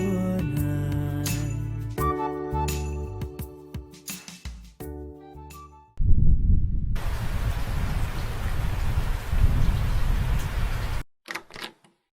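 Heavy rain pours down in a steady, dense hiss that starts suddenly after music, goes on for several seconds, then stops abruptly. No clear thunder stands out.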